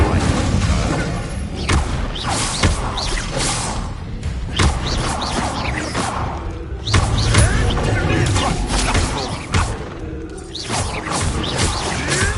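Fire spell effects from Hogwarts Legacy blending with a busy barrage of magical whooshes, thuds and booms, a dense stream of overlapping combat hits that stays loud and near throughout.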